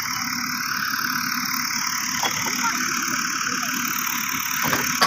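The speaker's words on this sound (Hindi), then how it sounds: "इधर देखिए, ये ट्रैक्टर ट्यूबवेल पर चल रहा है।" A tractor engine runs at a tubewell in a rural village among green fields, giving a steady, continuous idling drone with no speech over it.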